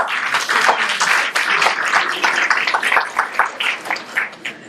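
An audience at a Center for Pluralism Thanksgiving gathering applauds, a warm, steady wash of many hands clapping close and loud throughout, with no talking over it.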